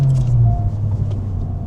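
Engine of a Honda Civic Type R FL5 with a low steady rumble and a brief rising rev blip from automatic rev-matching on a downshift, heard close from inside the car with no talk.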